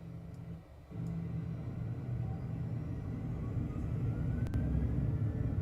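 MD-80 airliner engines in X-Plane 12 give a steady, deep rumbling roar that swells after a short dip and holds loud and continuous, with faint higher whines above it.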